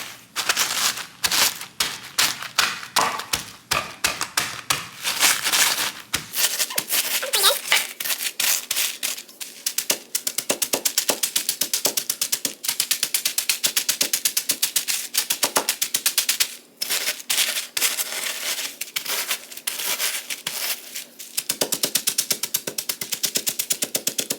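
A rolling pin crushes graham crackers in a bag for a snack crumb, giving loud, dense crackling and crunching bursts that run almost continuously, with brief pauses between passes.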